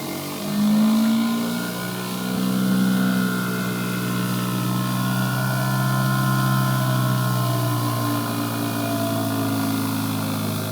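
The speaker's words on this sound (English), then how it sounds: "the surface cleaner is certainly taking its time to clean off the decking" A V-TUF pressure washer's surface cleaner works slowly across wooden decking, giving a loud, steady engine-like drone with a shifting pitch that holds for the whole stretch, with no talking over it.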